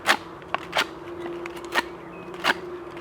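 A Le Taix artisan knife cuts into wood in a few sharp, crisp slices, each a short scraping crack spaced about a second apart, close and fairly loud against a steady low hum.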